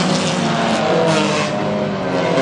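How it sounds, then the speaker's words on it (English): Hornet and Hobby Stock race cars at Granite City Speedway during a night heat race: loud, continuous engine roar from several cars lapping the oval, with swells as they pass close by. "KT Torbert tonight in the black, number 21, working her way around the racetrack tonight from Little Falls in our final heat race for the Hornets and Hobby Stocks."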